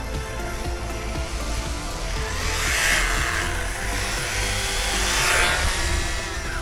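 An MJX HyperGO 14301 brushless 1/14 rally RC car with gyro drives and drifts on the ground, giving a steady whine from the electric motor and tire noise that swells twice, with no talking.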